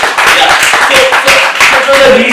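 Audience at a motivational talk in New Delhi claps in a loose, moderately loud round, the individual hand claps blurring together, with some voices mixed in underneath.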